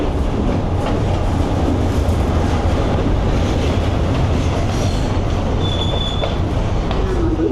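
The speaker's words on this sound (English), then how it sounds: "Okay guys, the train has arrived." A passenger train pulls into a station in Sri Lanka, giving a steady loud rolling rumble of wheels on rails with a faint brief squeal, and no voices.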